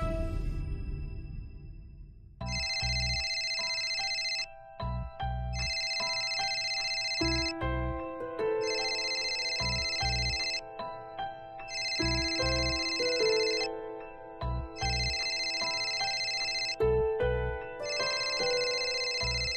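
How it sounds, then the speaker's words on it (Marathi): An incoming call makes a mobile phone play a melodic electronic ringtone, a bright repeating chime pattern that loops several times with steady rhythm, clear and close, with no talking. "स्वीटूचा फोन येतोय, तू प्लीज रिसीव्ह कर"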